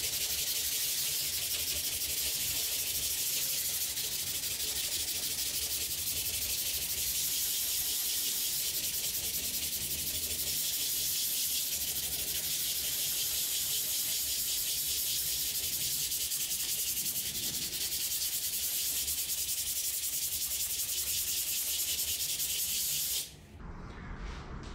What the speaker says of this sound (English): So let's start sanding this down and see how it looks.